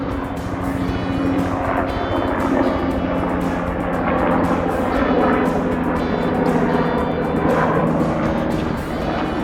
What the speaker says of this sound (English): That was a different helicopter.